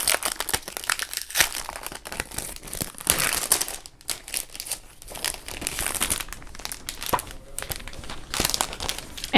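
Double-sided tape being pulled and pressed onto the back of an executive notes page, a close, continuous crinkling and crackling with brief tearing sounds throughout.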